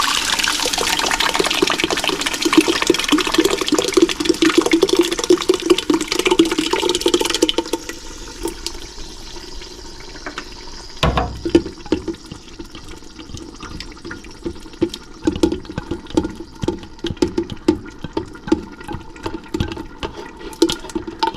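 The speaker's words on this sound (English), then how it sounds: "next thing we do is we're going to add in all our sauce" Marinara sauce pours into a big stock pot, first as a loud, steady gushing stream, then as softer glugging splashes and drips.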